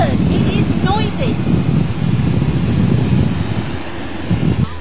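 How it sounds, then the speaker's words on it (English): Inside the cabin of a Twin Otter float-equipped seaplane in flight, a constant loud engine and wind drone fills the space while a person talks over it. "It's a twin Otter seaplane, probably one of the biggest float-equipped planes in the world."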